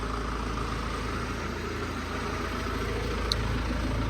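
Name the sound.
tractor engine idling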